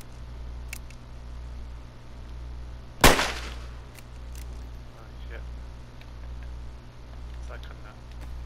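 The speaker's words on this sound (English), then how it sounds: "on the sound of the gunshot." A single sharp shotgun blast in the survival game DayZ during a one-on-one fight, sudden and loud against a low steady background hum, with a brief decaying tail and a few faint clicks afterward.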